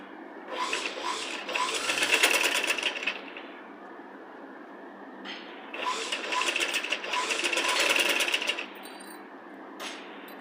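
A sewing machine stitches a single fold of cloth on a child's Punjabi dress top, running in two loud, rapid bursts of steady needle clatter separated by a short pause, with a brief restart near the end.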